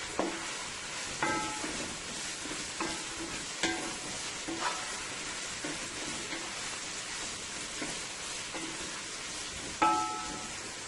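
Garlic, onion and scallion sizzle steadily in a hot pan, tossed with regular scraping stirs and occasional sharp clinks over a constant frying hiss, fairly quiet and close.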